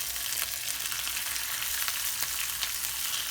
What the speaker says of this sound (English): we're just gonna cook the chorizo for about 10 minutes